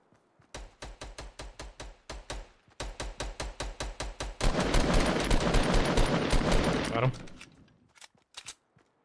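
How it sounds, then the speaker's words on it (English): Gunfire in the video game Fortnite: rapid repeated bursts of shots in a steady rhythm, then a dense sustained barrage for a few seconds, fading out with a couple of final shots, close and loud. "I'm getting Shot at it somewhere"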